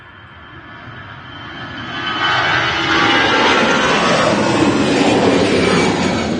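Aer Lingus airliner bound for Dublin at Manchester Airport, jet engines swelling from a moderate rumble into a loud, steady roar that holds to the end, without voices.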